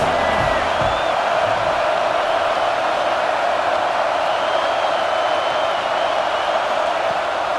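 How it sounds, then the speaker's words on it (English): Football stadium crowd at a Michigan State versus Michigan game roaring in a steady, dense wash of noise, loud and continuous throughout with scattered shouts and whoops inside the din. "This crowd trying to make life miserable for this offense."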